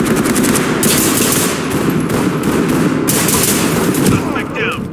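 Rapid automatic gunfire during a police apprehension of a suspect, loud and sustained in close bursts throughout, with voices faintly mixed in.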